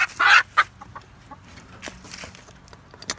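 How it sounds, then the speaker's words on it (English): Hens being handled for wing clipping cluck loudly in a sharp burst near the start, then give a couple of quieter clucks against faint farmyard background. "She's a pretty chicken."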